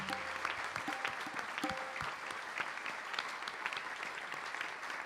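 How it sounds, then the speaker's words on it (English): An audience at a live talk in London breaks into a round of applause, a dense, even clatter of many hands that holds steady for several seconds at a moderate distance. "Let us give a big round of applause for all of these people."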